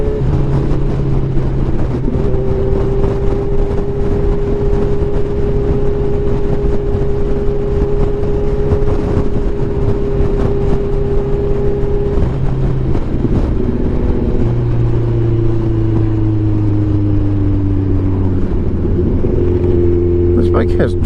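A 2016 Kawasaki Ninja 1000 with twin exhausts runs on the road, its engine droning steadily with rising and falling pitch through gear changes and wind rush, while a rider talks over it.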